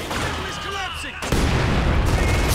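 Mortar fire in the video game Company of Heroes 2, a dense barrage of booming blasts and gunfire that stays loud and continuous throughout, with a heavier impact landing partway through.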